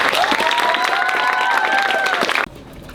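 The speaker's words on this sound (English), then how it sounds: "Now let's give it up for your new duo, Seline, Madam President, and Quinn, the new" Short burst of applause and cheering from an audience at a school leadership luncheon, loud and dense, then cutting off abruptly near the end.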